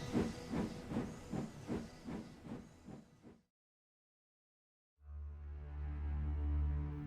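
Thick steam hisses from a steam engine in an audio drama, a loud broadband rush pulsing in rhythmic chuffs for several seconds, then silence, followed by a steady low rumbling roar.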